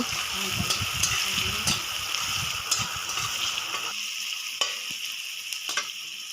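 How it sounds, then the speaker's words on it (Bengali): Chopped chili, onion and garlic fry in oil for egg fried rice, a steady sizzle broken by spatula scrapes and stirring clatter, with the low rumble dropping away partway through and no talk. "তো এটাকে ভালো মতন ফ্রাই করে নেব।"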